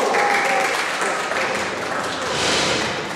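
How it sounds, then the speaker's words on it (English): An audience claps warmly for a playwright at an amateur theater play, a dense, sustained round of applause filling the room from start to finish without letting up. "give him a warm round of applause"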